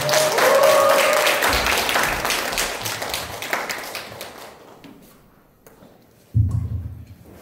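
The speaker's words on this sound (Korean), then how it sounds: "큰 박수 부탁드리겠습니다" An audience claps to welcome a lecturer at a Korean village autonomy forum, starting as a dense burst of applause that gradually thins and fades, ending with a few scattered claps and a low thump.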